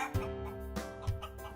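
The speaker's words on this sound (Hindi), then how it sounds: "मुर्गी दौड़ी हुई आई" A hen clucking in a few short, soft calls spaced apart, fairly quiet and alone.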